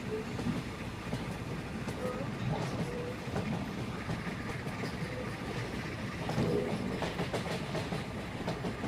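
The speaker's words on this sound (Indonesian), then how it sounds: "Dia terus melaju untuk menjemput kereta penumpang" An animated locomotive runs along the tracks on its way to collect passenger coaches, giving a steady, even rumble of rolling wheels with faint rhythmic clicking, continuous and moderately loud throughout.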